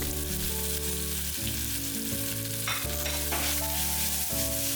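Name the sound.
chopped onions, tomatoes, ginger, garlic sauteing in cooker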